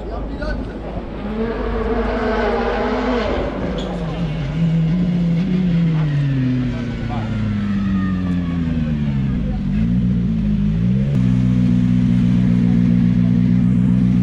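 A WRC rally car driven in a full slide, heard from the passenger seat: a loud, continuous engine roar that revs up and down in sweeping waves as the car accelerates and drifts.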